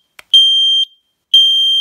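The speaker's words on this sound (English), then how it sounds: "Smoke alarm silenced in the kitchen." A Nest Protect smoke alarm sounds a false alarm in a home kitchen: a loud, piercing high-pitched tone held for about half a second, a short gap, then the tone again, close and alone.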